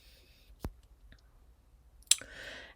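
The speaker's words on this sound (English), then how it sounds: "you're going to click on the Engage box" A single sharp mouse click on the Engage box in MoxiEngage stands out in a quiet room, followed later by a brief burst of faint shuffling noise.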